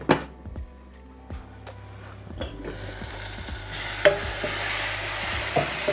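Tomatoes sautéing in a pan for sambar, heard as a soft sizzle swelling midway and continuing, punctuated by close knocks and clanks of a spoon or lid against the pan.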